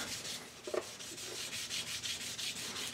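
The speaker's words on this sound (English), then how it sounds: "I use micromesh polishing pads." A micromesh polishing pad rubbed over a turned blank cast from cotton balls and crayons, producing faint rhythmic swishing strokes at a quick regular pace, close but soft, with one small knock early on.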